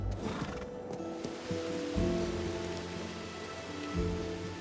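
Icelandic horses whinny and neigh outdoors in Iceland amid steady rain, drawn-out calls rising at intervals over the constant patter, moderately close, with no speech.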